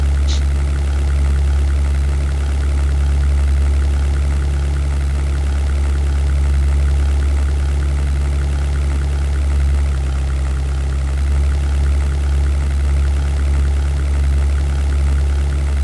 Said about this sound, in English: So the engine is working perfectly.